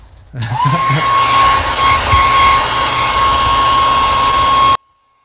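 A hair dryer switches on with a loud rushing whine, blows steadily at close range for several seconds, then cuts off abruptly.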